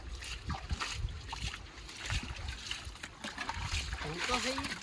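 Water splashes and sloshes repeatedly as it is bailed out with a pot and tossed, in the rain, with people talking over it.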